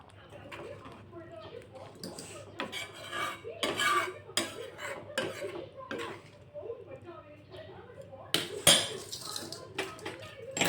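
Spoon stirring black-eyed pea curry in a pot, with irregular scraping and clinking strokes against the metal, some louder knocks, and a voice talking over it.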